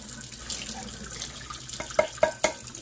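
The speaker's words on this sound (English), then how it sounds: "I'm gonna drain and rinse these." Canned heart of palm linguine-style noodles being drained and rinsed under a running kitchen tap, a steady faint water hiss joined near the end by three sharp splashy clinks of can or noodles against the sink.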